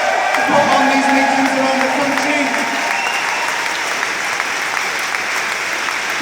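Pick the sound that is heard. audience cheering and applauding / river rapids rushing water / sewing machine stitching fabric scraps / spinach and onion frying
audience cheering and applauding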